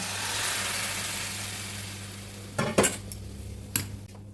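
A spoon scrapes and clinks a few times in a pan of simmering cabbage and egg curry, with three short, fairly soft strikes over a quiet low hum.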